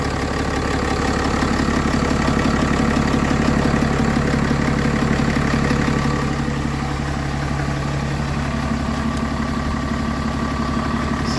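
A 2016 Ram pickup truck engine idles close by, a steady low rumble with a rhythmic knocking pulse that holds throughout, easing slightly in loudness partway through.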